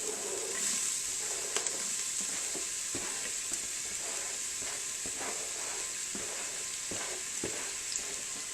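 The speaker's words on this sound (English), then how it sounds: "We've got a little sizzle going on." Onions sizzling steadily in hot oil in an Instant Pot, a constant frying hiss with occasional soft stirring clicks and pops close by.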